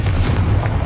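A Confringo blasting spell explodes in the Hogwarts Legacy game, giving a single loud, dense, rumbling blast that fills the short moment alone.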